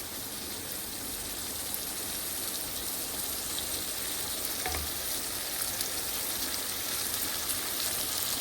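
Potatoes sauté in a pan for a bitter gourd and prawn curry, a steady hissing sizzle like light rain, interrupted once midway by a single dull knock of a spoon against the pan.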